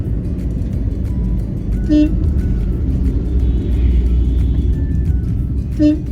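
Road traffic on the old Mumbai-Goa highway at Indapur near the Mangaon bypass and a bus depot: a constant loud engine rumble with two short car horn toots several seconds apart.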